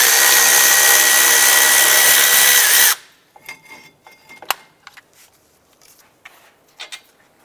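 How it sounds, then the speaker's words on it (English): A power tool loosens and removes the upper brake caliper bracket bolt on the front brakes of a 2006-2011 Cadillac DTS. It makes one loud, steady burst for about three seconds and then cuts off, followed by scattered light clicks and metallic clanks. "We're going to loosen and remove the upper bolt."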